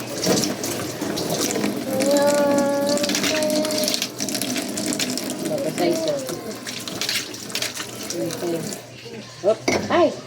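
Water runs steadily from a tap into a sink while dishes are washed, a continuous rushing hiss with people talking over it near the end.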